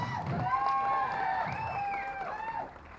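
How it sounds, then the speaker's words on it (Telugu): Audience applause and cheering for Sunil at the Gaja movie teaser launch event, a steady crowd roar with whoops and a tonal background running for about three seconds before tapering off. "ఈయన ఒకసారి క్లాప్స్ ప్లీజ్"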